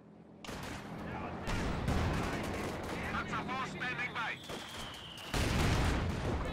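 Gunfire and artillery in a WWII real-time strategy game, with a gun pounding a Panzer IV tank: dense bursts of shots and booms, louder from the middle and near the end, with a whistling tone sweeping across.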